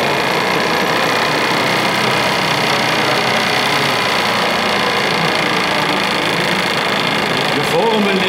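A steam engine runs during a museum demonstration at the MVG Museum in Munich, giving a steady, dense mechanical churning and hiss close by, with voices talking over it.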